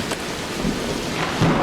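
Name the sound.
rain and thunderstorm in the video game Vein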